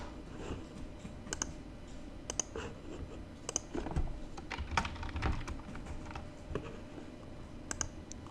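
Steady typing on a computer keyboard, with soft, irregular key clicks and a few sharper taps spread over a quiet room background, no voices.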